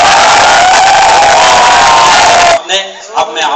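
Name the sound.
audience applause and cheering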